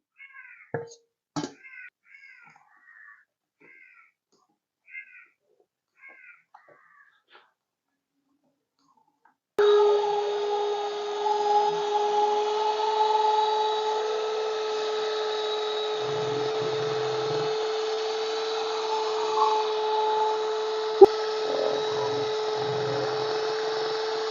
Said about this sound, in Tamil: மீதி உள்ள முட்டையையும் நம்ம சேர்த்து நல்லா பீட் பண்ணி எடுத்துக்கொள்ளுவோம்